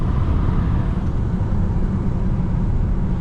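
A BMW F30 sedan cruising with its headlights off, its engine and road noise forming a steady, loud, unbroken rumble that holds level throughout from inside the car.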